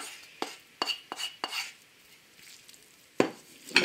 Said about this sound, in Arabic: نخلط مزيان الفرماج وهاد لي زيبين بحال هكذا